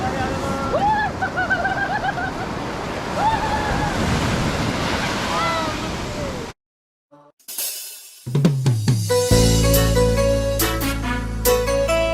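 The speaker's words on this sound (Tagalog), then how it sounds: "Ang lakas ng alon" Strong surf crashes and rolls at Patitinan Tigao Beach Resort in Sagñay, Camarines Sur, loud and close with wind buffeting the microphone while people talk. After a brief silence, music takes over.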